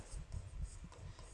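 Marker or chalk writing on a board during a Hindi-medium English grammar lesson, a short run of soft scraping strokes close by, with no talk over it.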